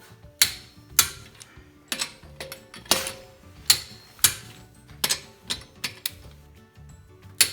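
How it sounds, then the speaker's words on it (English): A torque wrench tightens the front wheel lug nuts on a 2011 Honda CR-V to 80 foot-pounds after a brake job, with sharp metallic clicks and ratcheting snaps recurring roughly every second, close and clear. "now I'm going to take the torque wrench right up to 80 foot-pounds"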